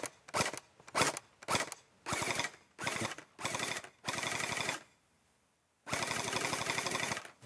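An XShot Hyper Gel Blaster fires gel balls on full auto in a string of rapid, rattling bursts, several short ones and then longer sustained runs, with a brief quiet pause before a final long burst. The firing is close and loud.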